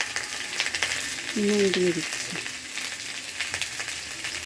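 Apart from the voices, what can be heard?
potatoes frying in oil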